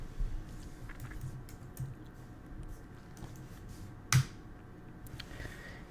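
Fingers tap a command out on a computer keyboard in a run of soft, close key clicks, then one sharper, louder press of the enter key before a few more light taps.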